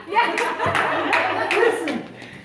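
A few people clap in brief, uneven bursts, mixed with chuckles and lively talk from a small group, with a voice in among the speakers.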